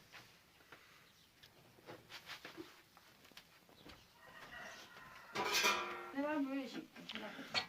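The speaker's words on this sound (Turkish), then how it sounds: "E, şimdi annem böreği ters çevirecek." A mother flips a potato börek in a baking tray in a village kitchen, with a loud clattering burst of metal tray and pan noise following quieter scattered clinks and taps.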